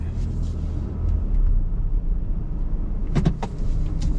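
A car pulling in and reversing onto a cement pad at a riverside RV resort in Watertown, Wisconsin, its low engine rumble steady throughout, with a few brief knocks and clicks near the end.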